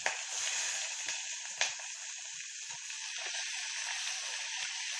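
Onion with cinnamon, cloves, bay leaf, stone flower, cardamom and mace sizzles in a pan for green peas pulao, a steady close hiss throughout with a brief sharper crackle burst near the start.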